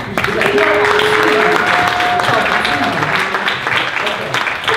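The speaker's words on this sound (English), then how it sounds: "So can y'all clap it up for them all the way up to the stage?" A crowd at a live youth spoken-word poetry showcase claps steadily as a team walks up to the stage, with a whistle and some whoops heard over the applause.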